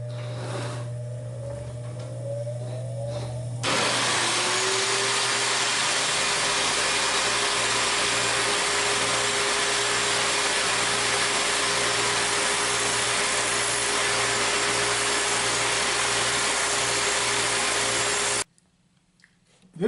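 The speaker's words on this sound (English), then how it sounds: "I'm also going to turn on my vacuum cleaner, which will generate a lot of noise" Vacuum cleaner switched on in a workshop cabinet, a loud broadband roar with a steady hum that runs continuously for about fifteen seconds and then cuts off abruptly.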